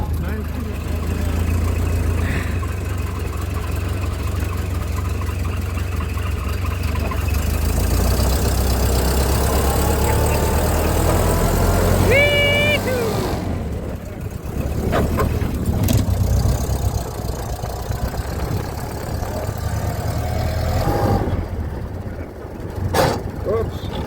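Engine of a Model A Roadster running during a ride, a steady low rumble throughout with people talking over it and a brief squeak or horn-like tone in the middle.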